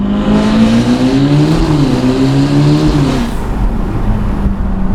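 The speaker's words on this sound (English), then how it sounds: "That exhaust! What in the world? under hard acceleration." A loud, close engine roar as a 704hp Novitec-tuned Ferrari Roma Spider accelerates hard, the exhaust note climbing in pitch, then easing back to a lower rumble.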